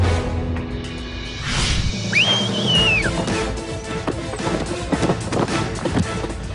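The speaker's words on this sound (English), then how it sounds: "When Allison whistled and the game began" A referee's whistle blows once, briefly, amid noisy crowd and activity as a team challenge begins on a weight-loss competition show.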